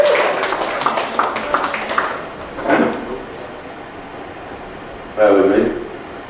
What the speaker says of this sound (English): Big round of applause, keep that applause going now for Tim Cronin